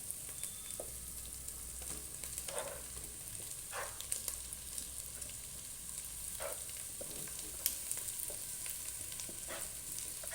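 Taro root pieces frying in a pan for a tamarind-style curry, with a steady bright sizzle throughout and occasional short scraping stirs and clinks at irregular intervals.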